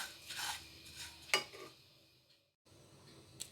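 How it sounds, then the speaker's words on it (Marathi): Sesame seeds and dried coconut are stirred while dry-roasting in a pan over a low flame, giving soft, intermittent scraping and rustling strokes that are quiet and close, with a short silent gap near the end. "आता ह्याच्यामध्ये मी हे सुकं खोबरं पण घालून घेणार आहे आणि मी अजून 2 मिनटं परतून घेणार आहे"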